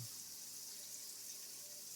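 Steady sizzling of Delmonico steak frying in a hot pan, a continuous bright hiss with no talking.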